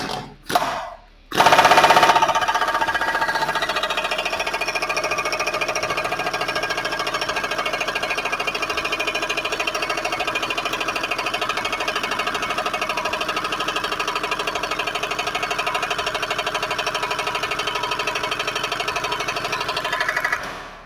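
A pneumatic impact wrench gives a few brief bursts, then a loud air compressor kicks in. The compressor runs as a continuous, steady, droning clatter for the rest of the clip.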